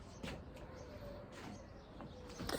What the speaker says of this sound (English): The cheerful sound of birds is also a manifestation of love.